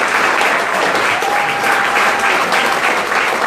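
Steady audience applause at a live comedy show, dense continuous clapping filling the room at full volume with no speech over it.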